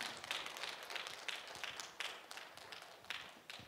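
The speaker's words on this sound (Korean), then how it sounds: "박수해 주십시오." A church congregation clapping during a Sunday worship service, a small group's claps close and fairly quick, with slightly irregular individual hits standing out over a short, steady round.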